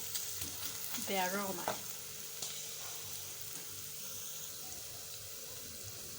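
Onion sweats in butter in a pan, a steady soft frying sizzle and hiss close by, briefly overlaid early by a short spoken remark, then continuing alone.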